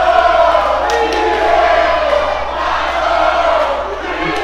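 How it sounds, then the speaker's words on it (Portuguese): Packed arena crowd at a sold-out X1 Kombat 12 fight event roaring continuously, a dense sustained wall of cheering and shouting that stays loud throughout with a few sharper shouts rising above it. "A torcida vai à loucura aqui."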